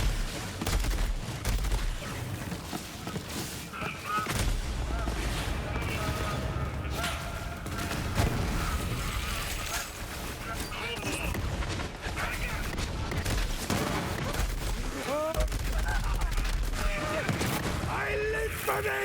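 Dense, continuous gunfire and explosions from the video game Borderlands 3 during a boss fight, loud and relentless with overlapping shots and booms throughout.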